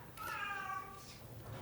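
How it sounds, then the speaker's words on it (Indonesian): A cat lets out a single drawn-out meow, faint and somewhat distant, in a quiet indoor room during a podcast recording. "Oh, ada kucing."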